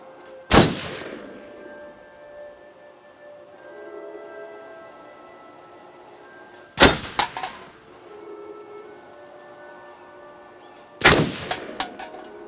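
Three sharp, loud gunshots from a shooting range in the video game Until Dawn are spaced several seconds apart, each followed by a short metallic ring and echo.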